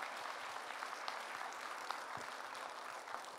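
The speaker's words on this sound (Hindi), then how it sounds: "Okay but please give her a big round of applause." Audience applause at a live Hindi motivational seminar, a steady moderate patter of many hands clapping, even and continuous with no speech over it.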